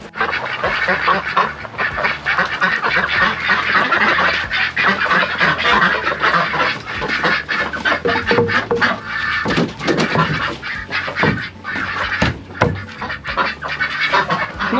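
Geese and ducks on a farm honk and quack loudly and repeatedly, a busy overlapping chorus of close calls with wind noise underneath.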